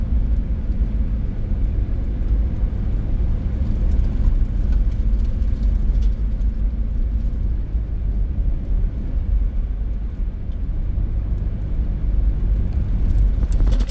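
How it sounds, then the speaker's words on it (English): Vehicle driving through very deep spring slush on a backcountry road: a constant low engine and tyre rumble with a dull whir, steady and close throughout with no break. "We're now driving through very deep slush"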